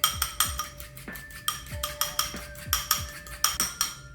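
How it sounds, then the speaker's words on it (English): A fork whisks carrot cake batter in a bowl, producing quick, rhythmic metallic clinks and taps, roughly three or four per second, close and crisp throughout. "Whisk it up with your fork."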